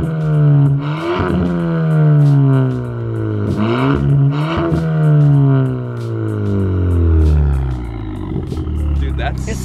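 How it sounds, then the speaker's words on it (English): A car exhaust revs repeatedly from close by, engine pitch sweeping up and falling back in several swells with a throaty drone between them, while voices talk faintly alongside. "Here, I'm gonna have Grace get an exhaust clip for you guys."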